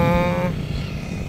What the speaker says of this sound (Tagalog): Kargado yung motor oh